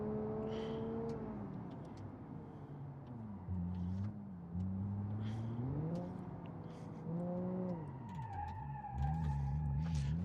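A car in the BeamNG.drive driving game, an ETK 3000IX on a race lap, skids with tires screeching as the emergency brake is pulled, while a steady engine drone rises and falls alongside the sustained squeal.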